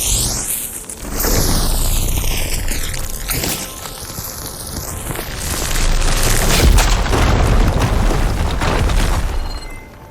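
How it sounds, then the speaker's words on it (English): A fire gleam blown up in Horizon Forbidden West erupts in a loud, booming explosion with crackling bursts and debris, followed by a sweeping, rising-and-falling game effect and a second rumbling surge. "Should be able to blow up that fire gleam."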